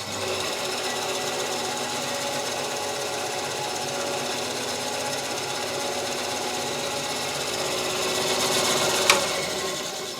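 A salvaged band saw, repaired with a washing machine belt, runs at a steady mechanical drone with a constant rattling whir, loud and unbroken, and a short sharp tick close to the end.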